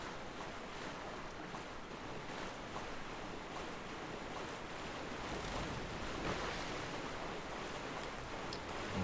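Steady, wet wash of swamp water in the Abyssal Swamp of Dark Souls 3, a constant murky rush with slow swells and no talking.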